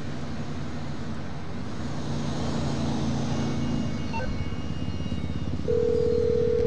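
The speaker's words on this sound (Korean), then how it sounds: "이제 전화해 레스터한테." A phone dials in the GTA V video game: a few short tones, then a steady ringing tone, over a continuous low engine-like rumble.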